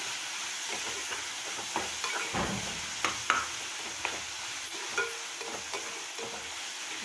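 Tomatoes sautéing down in a pan for a Tamil Nadu-style egg kuzhambu, a continuous close sizzle punctuated by frequent clicking spatula strokes against the pan.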